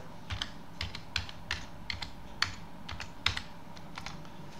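Keys on a computer keyboard are tapped in a quick, uneven run of sharp clicks while a password is entered at a sudo prompt on a Linux machine, close and clear with no talking.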